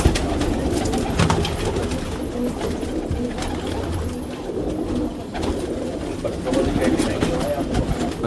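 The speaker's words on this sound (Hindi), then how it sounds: "एक से एक गजब का कबूतर" Pet pigeons, including black Katla crested birds, coo steadily in a loft among the flock, with low murmuring calls and someone talking over them throughout.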